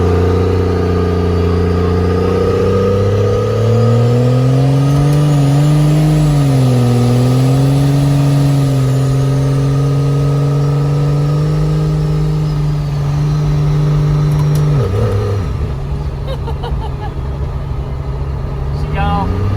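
A first-generation Cummins diesel truck with a failing transmission and sloppy second gear drives along, its loud engine drone rising and falling steadily as it accelerates, with a gear-shift dip near the end.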